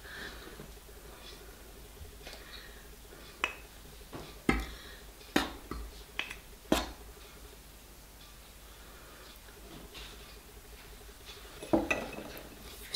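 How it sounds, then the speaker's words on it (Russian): A spoon mixes garlic bun dough in a bowl, giving scattered light clinks and scrapes against the bowl over a soft steady background, with a few sharper knocks in the middle. "вымешиваю пока ложкой, вся мука должна вмешаться в тесто."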